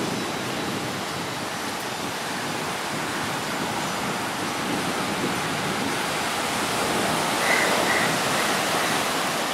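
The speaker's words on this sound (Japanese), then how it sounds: "海岸も広いです。" Ocean surf breaking on Hikkaduwa beach in Sri Lanka, a broad continuous wash of waves that swells slightly toward the end, with no voices.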